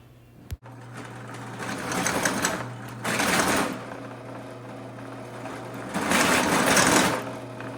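A one-inch hole is drilled with an economy Harbor Freight bit while a machine motor hums steadily. Three loud, rough cutting bursts come in separate stretches, the last one the longest.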